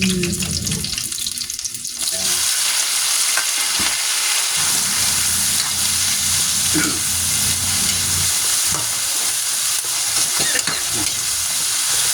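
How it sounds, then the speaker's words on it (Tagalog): Chili peppers and isaw (grilled intestines) sauté in a pan with a steady, loud sizzle and occasional stirring scrapes, following a brief quieter stretch at the start. "Igisa muna natin ito guys para malinamnam."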